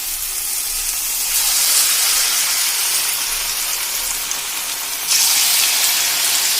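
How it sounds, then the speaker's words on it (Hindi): Oil heats in a kadhai for frying small pakoras in a village kitchen, giving off a steady, close hiss that swells slightly a couple of times. "और अब इसके बनाएंगे हम छोटी छोटी पकौड़ियाँ। तब तक ये तेल गर्म होता रहेगा।"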